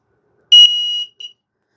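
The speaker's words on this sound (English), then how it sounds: "So this is a loud beeping warning." A Leaperkim Lynx S electric unicycle gives a loud, high-pitched warning beep that sounds once and sustains briefly, followed by a second short chirp, with silence around them.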